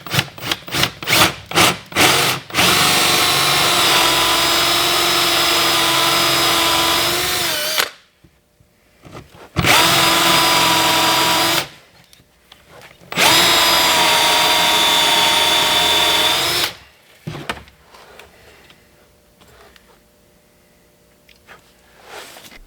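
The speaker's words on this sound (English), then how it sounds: "So I'm just gonna drill through" Power drill boring through a house wall to run a water line for a manifold and pot filler, heard as a series of short trigger bursts followed by two long, loud sustained drilling runs with brief pauses between them.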